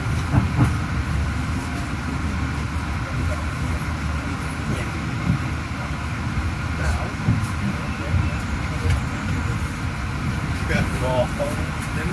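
The Gaya Baru Malam Selatan train arrives at Bekasi station, rumbling steadily nearby with continuous low mechanical noise and faint clacking, over a constant background hum; a few brief squeals near the end.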